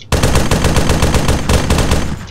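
Heavy machine gun firing in a military shooter game, a loud continuous burst of rapid, evenly spaced shots with a brief break partway through.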